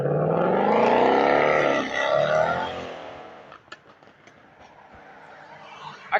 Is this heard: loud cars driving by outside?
yes